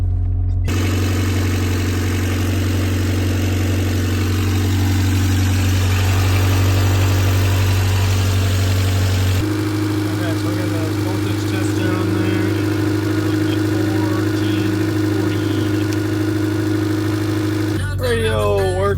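A 1989 Honda Civic sedan engine idles steadily with a low, even drone, close by, its tone shifting slightly midway; faint voices are heard in the background.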